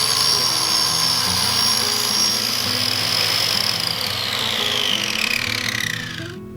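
A track saw cuts through the sides of a plywood outfeed table, giving a loud, steady whining roar that holds for several seconds before winding down and falling away at the end.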